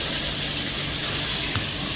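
Ginger garlic paste sizzles in a pressure cooker pot while being stirred for beef khao suey, a steady, loud, close hiss with no pauses.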